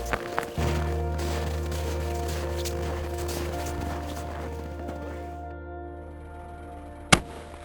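A single sharp rifle shot cracks out at a shooting range near the end, after several seconds of a steady low hum with no other shots.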